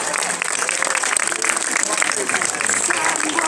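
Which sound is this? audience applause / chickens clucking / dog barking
audience applause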